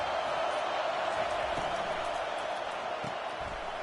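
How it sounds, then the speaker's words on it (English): A stadium crowd at an American football game roars in a steady, dense wall of noise, cheering on the defense, with a few faint thumps beneath. "Listen to this crowd just shaking the girders of this place"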